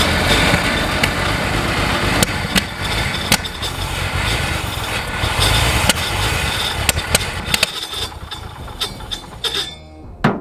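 A 1955 International truck engine, revived after more than twenty years abandoned, runs loud and close with an uneven, rough idle, broken by sharp pops back through the carburetor before the engine dies away near the end.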